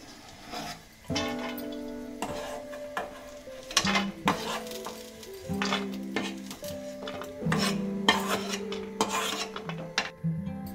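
Something being fried golden in ghee in a pan for rava laddu, with a spoon repeatedly scraping and clinking against the metal over a steady low sizzle. The taps are close and fall at irregular intervals, and no one speaks.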